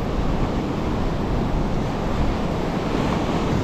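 Ocean waves and surf on rough water while striped bass fishing, a dense, steady wash of crashing water mixed with wind buffeting the microphone, close and loud throughout, with no speech.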